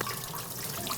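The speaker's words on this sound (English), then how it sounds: "It's time to rinse the eggplant." Running water rinses eggplant in a kitchen, a steady close splashing trickle with no speech.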